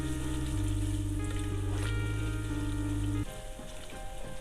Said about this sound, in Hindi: फिर हम लोग थोड़ा पानी डालेंगे।